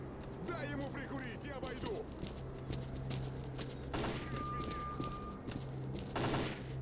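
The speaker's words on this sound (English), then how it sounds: "They're shooting me through the tiny gaps in the construction site." Enemy gunfire in the video game STALKER: Clear Sky, heard at a construction site: two sharp, loud bursts of shots cut through a low steady hum, with a brief ringing tone lingering between them.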